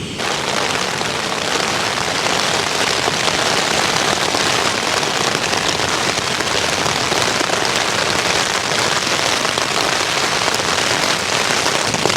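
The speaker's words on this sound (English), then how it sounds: "So the rain's coming down quite a fair bit now." Heavy, steady rain pounding down at a wild riverside campsite, a dense continuous hiss of drops striking a surface, loud and close with no letup.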